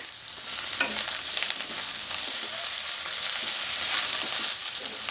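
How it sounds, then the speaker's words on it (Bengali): Thick-cut onions frying in a pan of hot oil for Bengali-style bhindi pyaz, giving a steady, dense sizzle throughout with occasional scrapes of stirring, close and fairly loud with no talking. "আমি এবার পেঁয়াজ দেবো এতে পেঁয়াজটা আগে দিয়ে দেবো"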